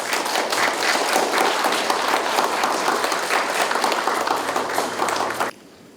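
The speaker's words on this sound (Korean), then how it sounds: "마지막 박수 좀 부탁드리겠습니다." An audience claps loudly and steadily at the opening ceremony of a public administration seminar, dense sustained applause that stops abruptly near the end.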